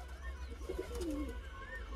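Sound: pigeons cooing

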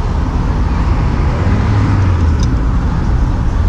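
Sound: heavy road traffic in Miami

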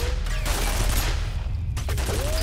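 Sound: enemy turret firing in video game F.E.A.R

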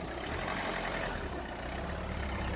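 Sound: car driving past

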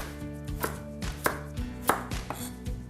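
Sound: chopping carrot coarsely with knife

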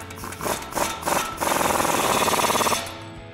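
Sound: tightening the axle nut on a RAM 1500 front end

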